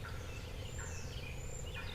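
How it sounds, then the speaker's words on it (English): Faint, sharp wild turkey hen calls sound in the distance over a low, steady outdoor rumble in Kentucky, a few quick cutting notes rather than a full gobble. "I got a hen cutting at me."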